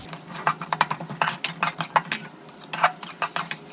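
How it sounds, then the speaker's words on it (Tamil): Utensil stirring onions into browned shallots in a pan for mutton semi-gravy, giving rapid close scraping and clinking strokes in a steady rhythm with a soft sizzle underneath. "So now we add the onion. நல்லா மிக்ஸ் பண்ணி விட்டுருங்க."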